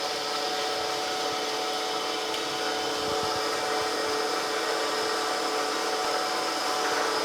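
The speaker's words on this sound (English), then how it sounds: "So let's fire up our machine. Bring our wheel down to the diamond." A surface grinder wheel being dressed with a single-point diamond in a small workshop: a steady, loud, high whine of the spinning wheel that holds evenly throughout, with faint scratchy grinding beneath and no voices.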